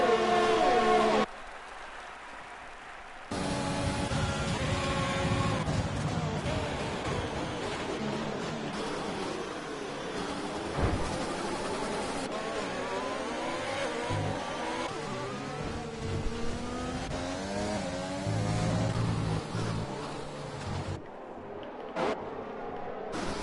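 F1 race cars from the video game F1 2020 roar past in a racing session, engine whines rising and falling through gear shifts across a continuous, fairly quiet mix of overlapping car sounds.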